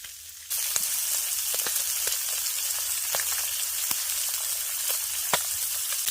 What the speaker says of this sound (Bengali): মাছগুলো ভাজা হয়ে গেছে এবার এগুলোকে তুলে নিচ্ছি